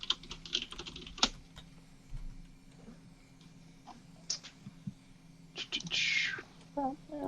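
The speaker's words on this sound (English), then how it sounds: "sitting there typing away" Computer keyboard typing in short irregular bursts of clicks, close by and fairly faint, with soft breathing and quiet background noise between strokes.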